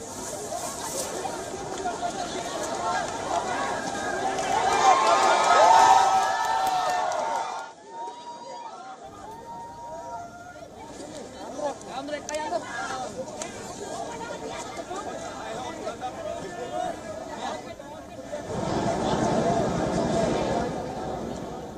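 Large crowd of protesters in Sri Lanka, a loud swelling mass of voices and shouting that drops briefly mid-way, then surges again near the end, with dense babble throughout.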